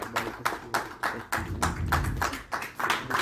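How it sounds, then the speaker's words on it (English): At a think-tank session on NGOs serving disabled people, a small group claps during a felicitation on stage, producing sparse, uneven bursts of hand claps at irregular intervals, fairly close and without speech. "A big round of applause."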